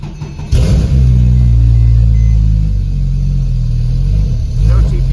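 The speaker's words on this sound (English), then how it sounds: "Car's not been started today, so this is a cold start." Cold start of a 2007 Porsche 911 Turbo with about 96,500 miles: the engine catches after half a second and settles into a loud, steady, close rumbling idle that continues throughout.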